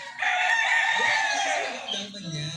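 A white-legged sweater gamefowl rooster, an F1, crows once in a long close drawn-out call that tails off, with faint background sounds.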